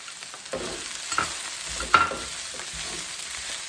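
Onions, garlic and scallions fry in a pan for a chuck beef dish, a close, crackling sizzle broken by a few sharp stirring scrapes and clacks, with no talking.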